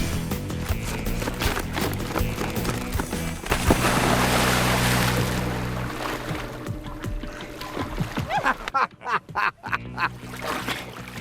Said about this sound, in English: Here we go, running on the water